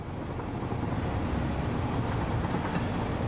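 Trains running on rails in the factory-building game Satisfactory, heard as a steady, dense rumble with a windy hiss that holds at an even level throughout.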